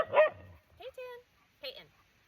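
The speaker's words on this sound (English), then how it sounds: "The dogs are playing" Dogs at play give a few short, separate barks and yips, fairly faint and spaced out, with stretches of quiet between them.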